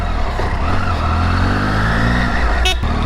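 A Triumph Tiger 800 XCx fitted with Pirelli Scorpion Trail 2 tyres rumbles along under way, its engine a loud, steady, close drone, with a brief horn-like toot near the end.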